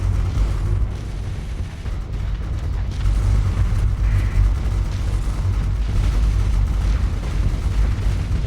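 In the Starsector video game a missile barrage and Reaper torpedo explosions roll together into a continuous, loud, deep rumble of booms with dense low-end blasts and no clear gaps.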